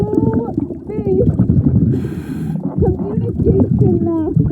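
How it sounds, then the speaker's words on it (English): Underwater on a night scuba dive, whale calls rise and warble in repeated sweeping tones over a dense bed of bubbling and rumbling, with a brief hissing burst of exhaled breath in the middle. "Do you guys hear the whales?"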